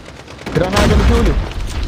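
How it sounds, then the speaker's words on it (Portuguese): Grenade blast in an online shooter game, a single muffled boom swelling over about a second amid game noise and players talking. "Granada no Júlio."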